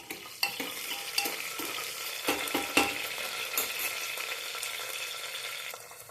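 Onion frying in oil with chilli and curry leaves for masala rice, a continuous sizzle broken by repeated scraping and clacking strokes of a spoon stirring the pan.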